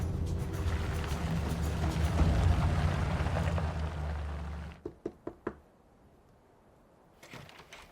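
Four quick knocks on a door, sharp and fairly close, following a steady rumble of engine or vehicle noise that cuts away just before them, with a faint shuffle afterward.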